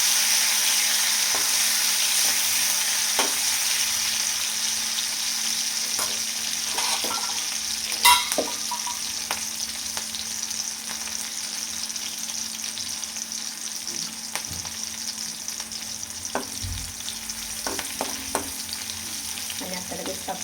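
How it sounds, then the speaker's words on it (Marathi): Green chillies frying in hot oil for sabudana khichdi, giving a steady, close sizzle throughout with occasional louder crackles and the scrape of stirring, with no talking over it. "मिरची छान तळून घेऊया तेलामध्ये."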